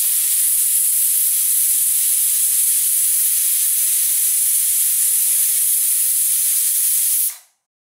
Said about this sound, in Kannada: ಕುಕ್ಕರ್ ಪ್ರೆಷರ್ ಬಿಟ್ಟಿದೆ.